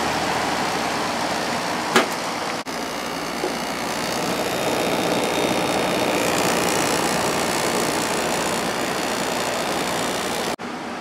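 A Samsung 10,200 BTU air conditioner's condenser fan runs with a steady, loud broadband whoosh of moving air, close by and unbroken for most of the stretch, with a brief knock near the start.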